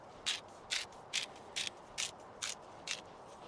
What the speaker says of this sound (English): And then I use some pink salt, which is one of my favorites. I'm gonna grind it up a little bit.